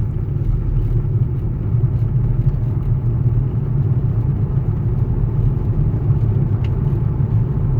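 An Audi A8, driven at 50 mph after a timing belt and head gasket job, gives a steady, low cabin rumble of engine and road noise that stays even throughout, with no talking.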